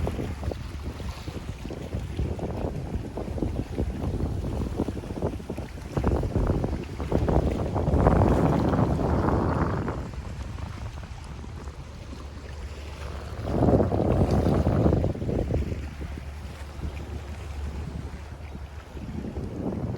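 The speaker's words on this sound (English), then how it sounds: "I do like to hear the waves of the Hudson River." Low, steady rush of Hudson River water lapping and washing at a waterfront in Poughkeepsie, New York, with wind buffeting the microphone and swelling twice.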